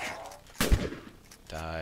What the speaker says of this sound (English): Cause the AK is just evaporating them